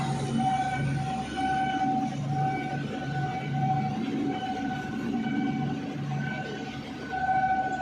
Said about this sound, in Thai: เสียงรถไฟมา